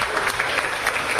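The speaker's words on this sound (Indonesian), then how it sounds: "Tepuk tangan buat Mbak Rizkia." Classroom applause: a small group of students clapping together in steady, moderately loud claps for about a second, with no talk over it.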